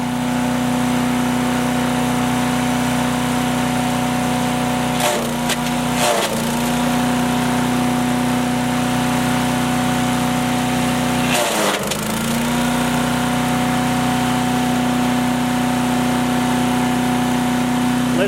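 A Harbor Freight wood chipper engine runs at a steady, loud, close drone throughout, with brief rattling thumps near the middle that sound like material being fed into it.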